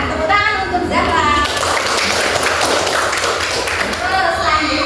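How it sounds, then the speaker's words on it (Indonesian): Children in an elementary school classroom break into a burst of quick, close clapping that lasts a couple of seconds, with a teacher and kids talking around it. "Tepuk tangan untuk Zahra."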